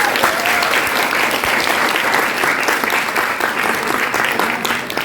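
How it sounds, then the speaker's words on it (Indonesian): A school drama audience applauds after a class performance of Bumi Manusia, a steady, dense wash of clapping from many hands that holds at full strength throughout. "Saya ingin minta kesediaan penonton untuk berikan tepuk tangan sekali lagi untuk mereka."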